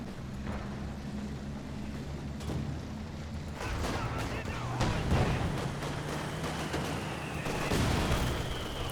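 In a tank-battle strategy game, mortar rounds from mortar pits strike in a series of deep, rumbling booms and blasts over a continuous low engine drone, growing heavier midway through.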